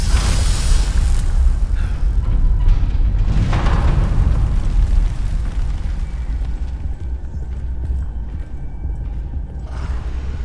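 A homemade fuel bomb detonates in Amnesia: The Bunker, giving a loud, sustained rumbling blast that fills the first several seconds and then settles into a lingering low roar with debris crackle.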